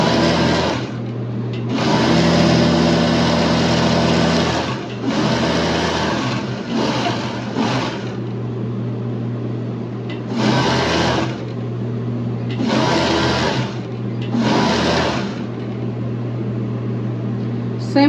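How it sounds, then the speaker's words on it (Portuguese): An overlock sewing machine finishes the seams joining swimwear lining pieces. The motor whirs loud and close in repeated runs of a few seconds each, separated by short pauses and starts. "Venho aqui com a overlock ao redor todinho, fazendo o acabamento para juntar as peças"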